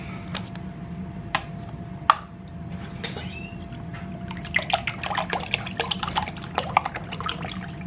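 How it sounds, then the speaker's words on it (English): Half and half poured into a bowl of six beaten eggs, giving a soft liquid trickle with light drips and clinks against the bowl, fairly close and steady over a low background hum. "with our 6 eggs, we're gonna add 2 cups of half and half"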